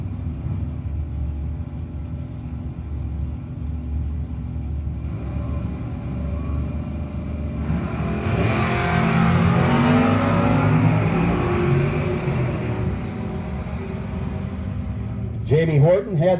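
Drag race cars, among them a 1969 Camaro, rumble at a No-Box 660 Shootout, idling low before a loud rising engine roar swells and fades, with a final burst of revving near the end.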